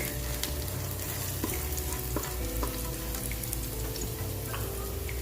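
Garlic frying in a pan for pork bopis, a steady close sizzle dotted with small pops and ticks, with a low hum beneath.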